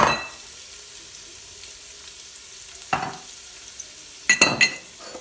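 Pandan leaves sizzle softly in a pan for a Sri Lankan chicken curry, a quiet steady frying hiss broken by a few sharp stirring scrapes at the start, middle and end.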